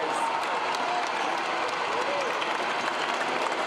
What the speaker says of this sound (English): Normally the applause is much louder, but I can assure you all of Los Angeles is clapping right now.